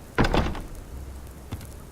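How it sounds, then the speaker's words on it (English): Door taking damage in the survival game Subsistence: a heavy wooden thud right away, then a fading rumble and a second, softer knock about a second later. "my door's taking a lot of damage"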